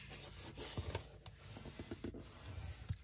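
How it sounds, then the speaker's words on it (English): Soft, close rubbing and light scraping as a glued paper strip is folded over and pressed down, with small irregular taps and rustles, quiet and without talk. "Then we're going to fold it over,"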